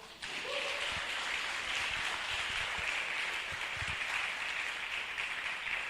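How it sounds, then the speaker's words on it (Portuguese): A church congregation applauding during a cell and discipleship seminar, a dense hiss of many hands clapping at once that starts abruptly and holds steady and loud to the end. "Vamos aplaudir o Senhor?"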